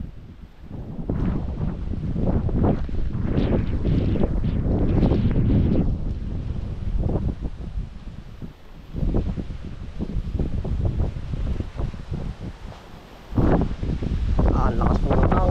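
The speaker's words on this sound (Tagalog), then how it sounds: "Lakas po ng hangin yan no?" Strong wind roars and buffets the microphone in heavy gusts, rising and falling with brief lulls, loud and close throughout.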